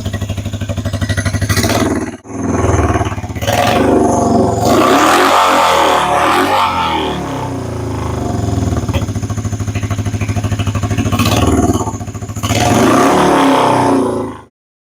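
Motorcycle engine running on full choke with no air filters fitted, loud and close, revving repeatedly in rough surges with dips between blips and a clattery mechanical edge, with no talking.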